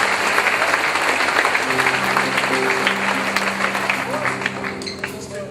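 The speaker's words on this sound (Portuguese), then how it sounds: "aplauda o Senhor em você" Church congregation applauding the Lord during an evening sermon, a thick, sustained roar of clapping from a large crowd, with voices and sustained tones running beneath it.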